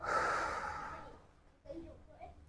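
A deep breath is drawn and released during a gentle stretching exercise routine, followed by quieter breathy exhales, close and soft in an otherwise quiet room.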